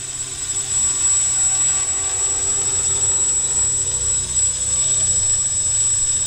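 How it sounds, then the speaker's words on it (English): The motors of an X650 multicopter with bad motor timing make a loud, steady droning whine, close and unbroken, with a rough, crackly edge. "The motors are cracking a lot. It's not bearings, it's just cracking from timing, bad timing."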